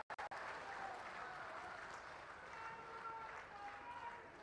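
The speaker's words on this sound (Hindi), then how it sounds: "तालियों की गड़गड़ाहट से स्वागत होनी चाहिए।" Roar of crowd applause greeting a speaker at a Shivpuri public welfare distribution event, a few sharp knocks at the start, then a dense, sustained wash of clapping that stays steady throughout.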